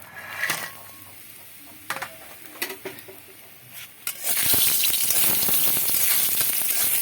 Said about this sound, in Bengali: কড়াইতে তেল দিয়েছি এই যে বড়িগুলো ঢেলে দেব ভেজে নেব